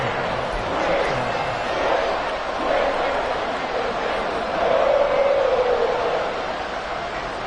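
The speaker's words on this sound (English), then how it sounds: "This crowd alive again" A football stadium crowd roars after a fourth-quarter game-tying extra point, a broad steady swell of cheering and babble with a commentator's voice running over it.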